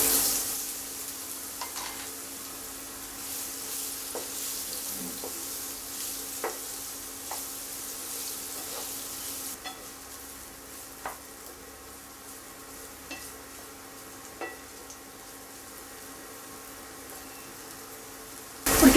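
Boiled carrot pieces frying in a pan, a steady soft sizzle with occasional light scrapes and taps as they are stirred, no talking.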